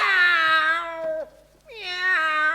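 A cat gives two long, drawn-out meows separated by a short pause, close and clear with no other sounds around.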